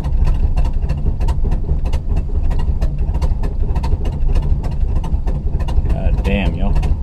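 A 1953 Studebaker car engine idles steadily and loudly up close, its rhythmic pulsing continuous throughout, with a brief voice near the end.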